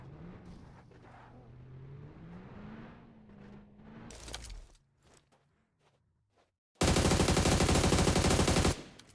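Long-range gunfire in a competitive video game scrim: quieter game sounds and scattered clicks give way to a loud, sustained two-second burst of rapid automatic shots near the end.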